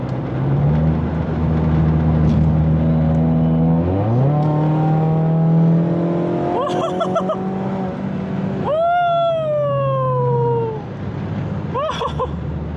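A car pulls forward in a short burst of acceleration, its engine climbing loud and close, easing back, then revving up again; the car feels unsettled and all over the place when the throttle is lifted.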